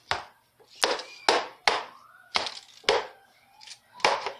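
Pumpkin being chopped with a knife on a cutting board for a from-scratch vegan pumpkin pie: about eight sharp, distinct chops in an uneven rhythm, close and fairly loud, with no talking between strikes.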